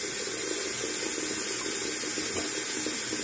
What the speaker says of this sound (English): Let me get this sink filled up